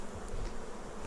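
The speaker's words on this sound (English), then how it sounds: "It's amazing watching the bees communicate." Honeybees at an open hive give off a dense, steady buzz, close and continuous with no pauses, and no voices are heard.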